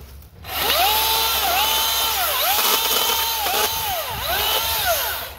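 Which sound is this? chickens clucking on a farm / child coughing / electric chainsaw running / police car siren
electric chainsaw running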